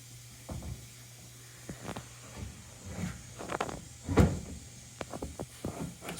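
A Hawa Concepta 30 pocket door being handled and wedged into place, with scattered close wooden knocks, clunks and sliding scrapes in an irregular series, the loudest thump near the middle.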